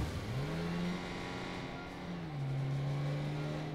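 A video-game car engine drones steadily at close range, its pitch rising, dipping, then climbing again as the vehicle accelerates and cruises, with no talk over it.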